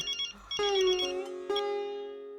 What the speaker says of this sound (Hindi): देखो कौन है? कौन है? अंजलि का फोन